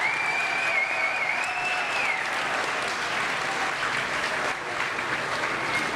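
A school assembly crowd of students at Valley Stream South gives sustained applause, a dense, steady roar of many hands clapping for the full stretch, with a faint whistle-like tone early on and no clear speech.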